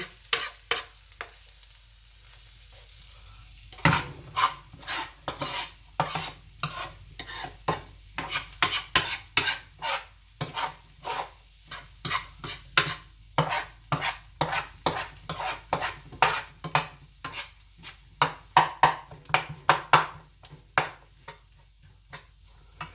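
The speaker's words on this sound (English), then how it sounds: "So you just mix them all in." A utensil stirs chicken with herbs and garlic in a frying pan, producing a long run of rhythmic scraping clacks over a soft sizzle, close and steady, with no talking.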